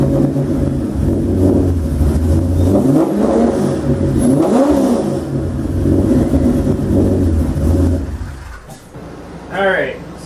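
A Corvette engine with a belt problem runs with a steady low rumble, then revs up and down in a few rising and falling sweeps before cutting out, followed by a brief whine near the end.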